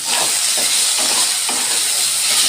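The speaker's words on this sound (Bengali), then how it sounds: "এই আলুটা এখন আমি বেজে নিচ্ছি" Cut potatoes sizzle steadily in hot oil in a pan while a fish curry with flat beans is being cooked, a continuous, fairly loud frying hiss with faint stirring bumps and no talking.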